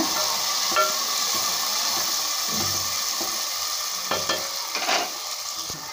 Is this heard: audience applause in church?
no